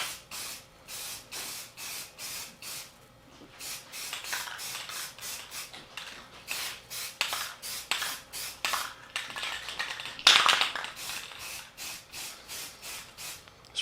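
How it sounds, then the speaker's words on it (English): Rapid hissing bursts of a spray can applying primer to a rebuilt 351M engine from a 1979 Ford F250, short pulses repeated steadily in a fast rhythm, close to the microphone, with a few longer sprays. "Spray from all angles so you get all the corners."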